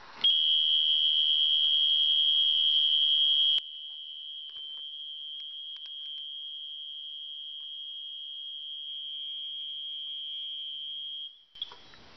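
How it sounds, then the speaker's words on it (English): A camera gives a high-volume warning: one continuous piercing electronic tone that holds for about eleven seconds, very loud at first, then slightly softer, and cuts off near the end, with no voices. "The camera was actually beeping when I did that."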